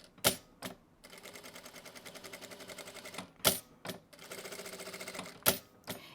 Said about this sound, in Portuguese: Eu vou costurar todo esse círculo, fechando ele todo.